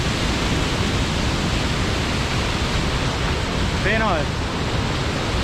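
The Bomuru waterfall in the Bomuru chain roars steadily below, a loud, dense rush of falling water, and someone speaks a single brief word near the end over it.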